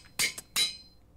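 Forge hammer crushing hardened clay in a Minecraft modpack: two quick, bright metallic clanks with a small tap between them, close and clear, each ringing briefly before fading into quiet.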